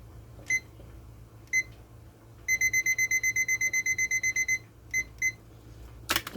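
A kitchen timer gives single key-press beeps while it is set for baking cornbread, then a rapid run of about a dozen loud beeps and a few more single beeps over a low hum.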